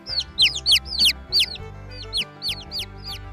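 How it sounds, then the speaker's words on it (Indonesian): Cheeping from a yellow baby chick toy, a run of high, repeated chirps in two quick bursts, fairly close, over a steady low background hum. "Ini ada anak ayam warna kuning."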